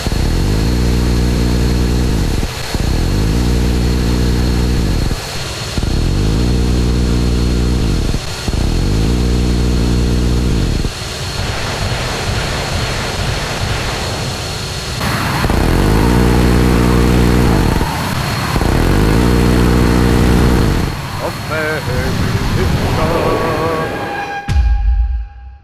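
An A-10 attack aircraft engine in ArmA 3 gives a loud, droning tonal roar in repeated bursts of a few seconds each with brief dips between them, then a shift in pitch and noise near the end, with no talk.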